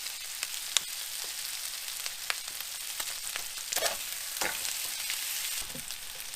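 Boiled potatoes fry in a pan with a steady, close sizzle and frequent crackles and small pops, with a few louder spits scattered through, and no one talking.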